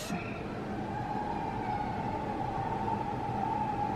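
A siren wails steadily outside, heard indoors through a constant broad rumble, holding one sustained tone throughout.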